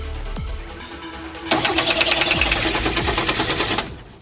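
Renault 4L engine running rough on three cylinders, an uneven mechanical chatter that jumps louder after a second and a half and pulses with irregular misfiring beats before cutting back near the end.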